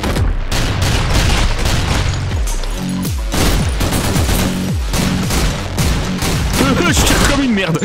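Loud, rapid bursts of shotgun fire in the top-down shooter OTXO, heavy blasts stacked almost continuously with booming impacts and crashes between them, up close and dominating the mix.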